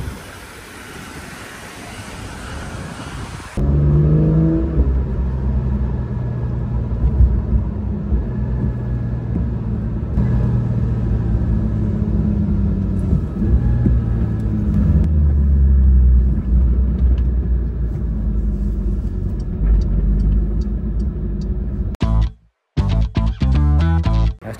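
Car engines at the Nürburgring rumble and idle loudly nearby for a long steady stretch after a quieter windy opening, with a few revs and brief abrupt cut-outs near the end.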